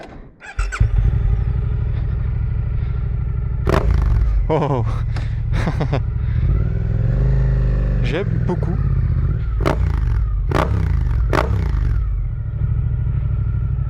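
A Suzuki GSX-8R sport motorcycle engine revs hard in repeated sharp bursts, loud and close, with a brief exclamation and a short remark spoken over it.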